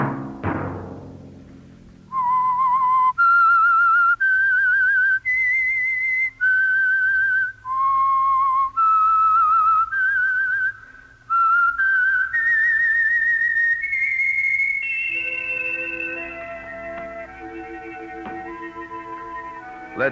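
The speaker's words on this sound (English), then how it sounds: "Let that whistle be your signal for the Signal Oil program, The Whistler" Someone whistles the eerie theme melody of the radio mystery program The Whistler, a clear solo tune of sustained notes rising in steps, close and alone, followed by a soft instrumental continuation.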